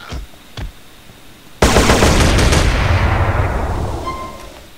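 Weapon fire in GTA San Andreas: a couple of faint early shots, then a sudden loud blast that rolls into a long, dense decaying rumble.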